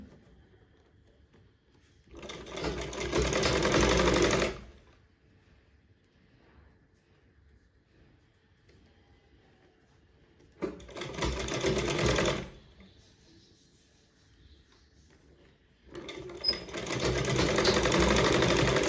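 A sewing machine stitches piping onto fabric in three loud, steady bursts, each lasting about two to three seconds, with near silence between them.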